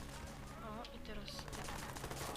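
Video game gunfire in Watch Dogs, rapid rattling bursts of shots from an automatic weapon, loud and dense, mixed with in-game voices.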